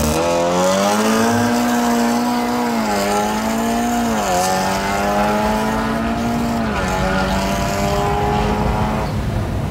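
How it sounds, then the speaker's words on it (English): A 550 horsepower VW Golf 7.5R launches hard, its engine roaring loudly and climbing through rising revs with brief dips at each gear change, heard from inside the car. "Okay, you guys, we're gonna do a launch in this car."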